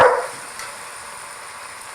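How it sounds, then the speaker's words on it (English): Dogs give one sharp bark right at the start, which fades quickly into a low, quiet indoor background hum. "Dogs are having fun."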